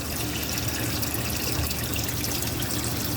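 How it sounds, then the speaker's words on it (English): Water runs steadily into a homemade chest freezer bait tank during a water change, a constant close rushing and splashing with no breaks or talking. "I'm changing the water right now."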